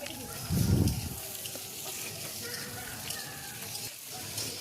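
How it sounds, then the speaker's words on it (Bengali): Potatoes and onions frying together in a pan sizzle close up, with a louder burst of crackle early on, then a steady frying hiss underneath light background sounds. "আলুটাকেও পেঁয়াজের সাথে ভেজে ফেলবে পুরোপুরি।"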